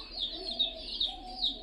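Giribaj pigeons give soft, low cooing in a gentle repeating rhythm, faint and close, with no other sounds around them.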